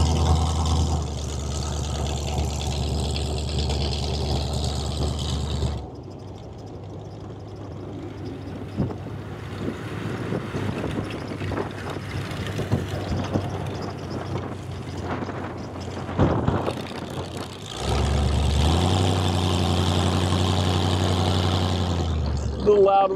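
A 1932 Ford High-Boy Roadster with a four-speed automatic is driven on a hot day, its engine droning loudly with wind buffeting, then dropping to a quieter idle-like stretch before surging loud again near the end.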